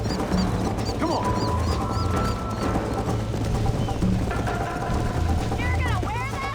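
Horses gallop in Red Dead Redemption, with a rapid, steady clatter of hooves under game ambience, occasional whistles and bird calls, and voices speaking over it.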